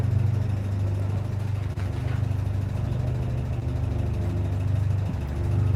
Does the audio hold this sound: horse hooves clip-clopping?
no